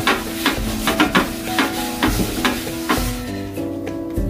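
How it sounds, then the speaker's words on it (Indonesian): Chicken satay skewers sizzle loudly on an oiled grill pan, a dense crackling fry punctuated by repeated clicks and taps as the skewers are moved and turned. "langsung saja ini dipanggang di sini ya"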